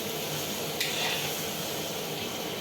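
Meat with tomato and spices being sautéed in a big picnic cooking pot, a dense, even hiss and sizzle throughout, with one short scrape of stirring near the start, close and steady with no talking.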